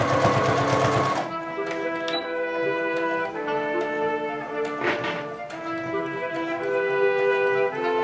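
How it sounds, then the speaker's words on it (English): A sewing machine stitches the handles of a reusable shopping bag, a steady close mechanical whir that runs almost without pause, with a brief dip and a few light knocks partway through. "we're going to get this last little stitching done"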